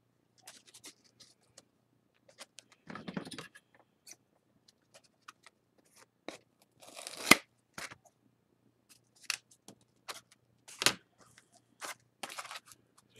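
Scissors trimming excess blue material off a basic bridge build, heard as a few short, sparse snips and scratchy cuts spaced apart in a quiet room, with no talking.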